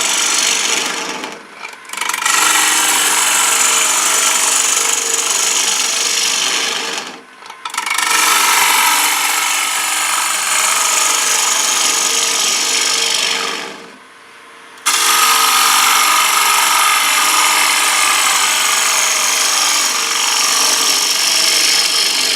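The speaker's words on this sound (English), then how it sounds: "for the front, I use the same 1/2 inch bowl gouge." A 1/2 inch bowl gouge cuts a wooden plate spinning on a lathe. The scraping and shaving is loud and continuous, with three short pauses where the tool lifts off before each new pass.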